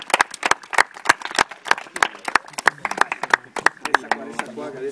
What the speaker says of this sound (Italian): Un applauso a Dario Frezza